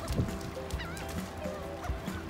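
A flock of geese on a beach honking repeatedly in scattered, overlapping calls, fairly close, with a faint background hiss.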